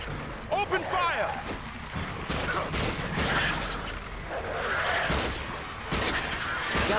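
Gunfire in the King Kong video game, with repeated crackling shots and bursts over a constant rumbling din, close and steady, while someone shouts over it.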